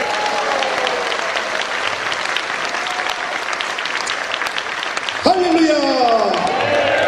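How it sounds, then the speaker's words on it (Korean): A church congregation at a Christian leaders' forum worship service claps in loud, sustained applause, then a voice rises over the clapping in the final two seconds. "자, 박수를 칠 준비를 한번 해주십시오"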